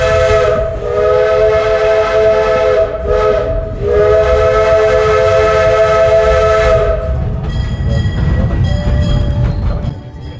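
A loud, steady steam locomotive whistle blows twice, the second blast held long before cutting off, leaving hissing steam and rumbling behind, on a train in the Colorado Rocky Mountains.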